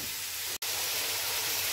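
Water poured onto frying carrots in a hot pan, a loud, steady steaming hiss that holds throughout, cut by one brief gap of silence.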